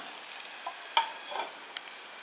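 Ragi bun dosa cooks in a covered pan over a low flame, giving a faint, soft sizzle with a few small crackles and pops scattered over a couple of seconds.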